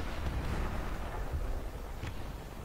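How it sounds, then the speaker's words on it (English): A mech suit's rocket launcher fires in the War Thunder combat game, producing deep, muffled rumbling booms with a sharper blast about two seconds in, all at moderate volume and with no voices. "I decided to test out my rocket launcher."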